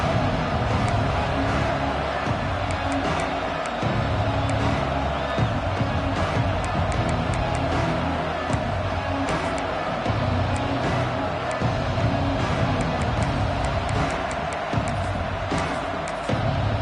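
A stadium crowd in a Madden football game keeps up a broad, constant roar throughout, with faint thuds and clatter scattered through the dense murmur.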